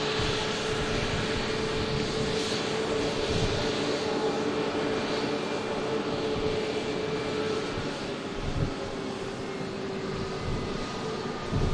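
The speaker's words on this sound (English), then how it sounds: "Brand new aircraft for Jet2." A new Jet2 airliner at Manchester Airport produces a steady, distant jet engine roar that holds evenly for the whole stretch, with a slight swell near the end.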